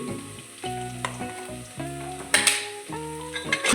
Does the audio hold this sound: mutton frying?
yes